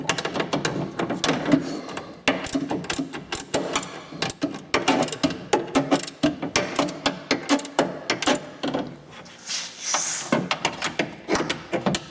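Ratchet clicks and mechanical rattling while bolts are loosened on a 2004–2008 Ford F-150 window regulator, a dense run of sharp rhythmic bursts up close, with a brief pause near the end.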